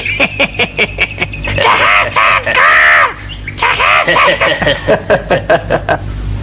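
A cartoon parrot gives a run of harsh, loud squawking calls, rapid and repeated, some stretched longer, sounding close and with no one talking.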